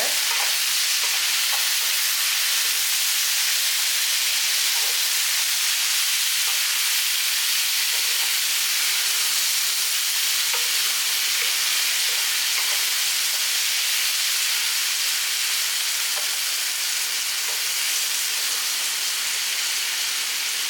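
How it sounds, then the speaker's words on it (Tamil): Citron pieces sautéing in hot oil for a Rajapalayam-style pickle, a constant even hiss and sizzle throughout, with faint scattered crackles and no talking. "இப்போ இந்த நார்த்தங்கையை அதில் கொட்டிக்கலாம் கொட்டிட்டு நல்லா எண்ணெயிலே வந்து நல்லா வதக்கி"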